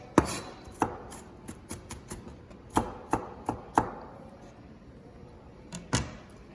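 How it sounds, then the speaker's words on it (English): Knife chopping food finely on a board for bangers and mash, sharp irregular clacks in bursts of two or three with short pauses, close and clear in a quiet room. "we're going to slice it one way, and then we're going to put it the other way and make it nice and fine"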